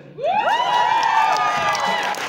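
A concert premiere audience cheers with rising whoops and shouts over applause, a loud, sustained crowd roar that swells quickly and holds.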